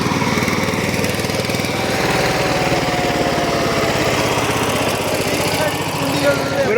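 A power tiller's engine runs steadily in a village setting, a loud, close, continuous chugging drone with a constant vibrating rumble that does not let up.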